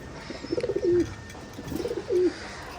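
Pigeons kept in a loft coo close by, two rounded, rising-falling coos about a second apart against a quiet background.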